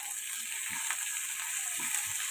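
Moong dal and curry leaves sizzle steadily in a hot pan, a constant bright frying hiss with a few soft low knocks from stirring, close and alone.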